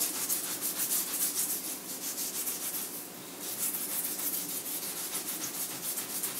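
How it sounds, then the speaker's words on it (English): A Scotch-Brite pad rubs back and forth over a stainless steel machine tool, a steady, close scrubbing hiss in regular strokes with a brief pause midway. "I'm just going to uh, take a Scotch-Brite pad and kind of just wipe over it a little bit"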